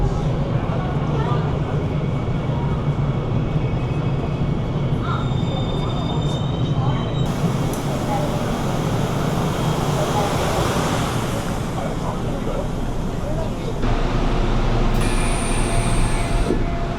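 A Seoul subway train running underground, with a steady loud rumble of wheels on rails throughout and thin high squeals of the wheels rising and fading, while voices are faintly mixed in.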